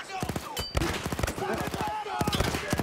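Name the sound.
machine gun fire in a video game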